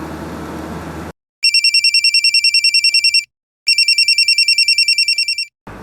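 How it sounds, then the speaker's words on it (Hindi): A telephone rings in two long electronic trilling bursts separated by a short pause, loud and close, after a brief stretch of noise. "घंटी बज रही है"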